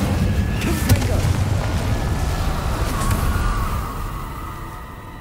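A fiery Incendio spell cast during a boss fight in Hogwarts Legacy bursts out as a loud, sustained rumbling whoosh with a sharp crack near the start, dense low roar throughout that eases off toward the end.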